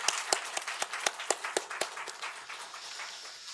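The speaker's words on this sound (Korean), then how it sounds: "우리 하나님 앞에 영광의 박수 올려드리겠습니다" A church congregation at a Thanksgiving service claps in a brisk, roughly unison rhythm of sharp beats that speeds up and then loosens into scattered, fading clapping.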